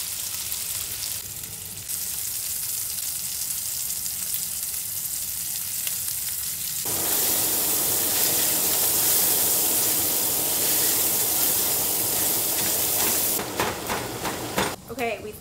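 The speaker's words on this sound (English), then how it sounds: "we're gonna brown the outside of the chunks" Chunks of sausage browning and sizzling in a pan, a steady loud frying hiss that swells and intensifies midway, with occasional stirring.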